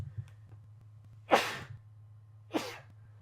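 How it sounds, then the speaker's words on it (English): Two sharp sneezes about a second apart, close and fairly loud against a quiet background hum. "Oh, hang on, I feel like I gotta sneeze."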